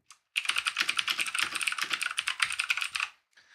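Fast, continuous typing on a computer keyboard in sound-library software at a desk, a dense run of close, crisp key clicks lasting about three seconds with a few stray taps at the end, no voices.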